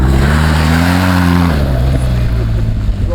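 A BMW GS motorcycle in enduro mode revs hard while sliding on dirt, its engine loud and close, the pitch rising and then settling into a steady, sustained drone.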